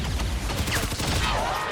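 A soldier's gunshot in the XCOM 2 video game, a dense, loud burst of gunfire lasting briefly and filling the whole moment.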